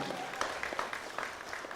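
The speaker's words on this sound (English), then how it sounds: "And once again, one more round of applause for Mr." Faint audience applause for speaker Christopher Murden at a student speech event, a soft, continuous patter of clapping heard from a distance for under two seconds.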